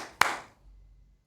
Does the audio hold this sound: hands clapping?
yes